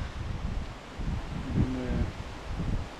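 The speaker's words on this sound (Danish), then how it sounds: "det blæser ret kraftigt" Strong wind gusts buffet an outdoor campsite on a coastal hiking trail, a steady low rumble with rustling, briefly joined by a faint tonal whine.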